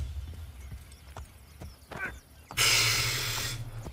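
Horse hooves clop in a steady rhythm in Assassin's Creed: Brotherhood, followed by a sudden loud rush of noise near the end.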